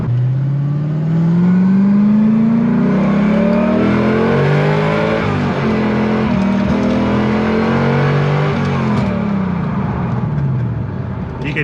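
Deep, muffled V8 exhaust from a flood-damaged Corvette ZR1 revving and pulling while driving, loud and close, with rising and falling engine pitch and a few throttle lifts throughout.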